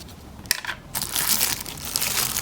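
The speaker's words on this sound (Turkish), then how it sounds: "Cep telefonumu poşetin içerisinden çıkartıyorum." A plastic bag crinkles and crushes close by as a TCL L7 phone is pulled out of it, with a sharp rustle at first, then a steady, loud crackling that continues to the end with no talk.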